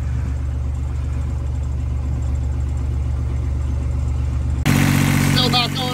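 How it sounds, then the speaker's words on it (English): Universal M25XP marine diesel engine running while stuck at 1900 rpm, a steady close rumbling drone with a louder, rougher shift near the end; a voice speaks briefly over it. "I've been motoring for about 5 minutes, but she's stuck at 1900 RPM"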